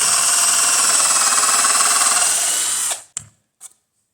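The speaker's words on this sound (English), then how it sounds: "Go ahead and drill your hole." A power drill bores a hole through a piece of wood, giving a loud, close, continuous high whine for about three seconds before stopping, then two short bursts as the trigger is tapped.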